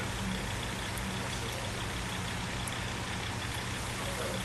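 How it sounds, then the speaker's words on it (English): Gentle rain falls steadily as a soft, even hiss with a low droning hum beneath it, continuous and unbroken with no voices. "It's one of those gentle rains, so it's comforting."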